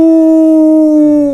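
A wolf howl used as a sound effect in a spoken telling of the Three Little Pigs, a single loud, sustained, steady-pitched howl that dips slightly at the end, heard alone.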